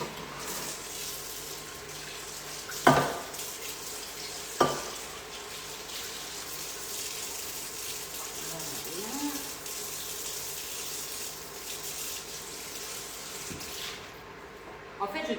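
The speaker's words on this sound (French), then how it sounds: "Je lave ma casserole et je reviens vers vous." Water runs steadily from a tap with scrubbing and splashing, broken by two sharp clanks of metal against the sink, then the flow stops near the end.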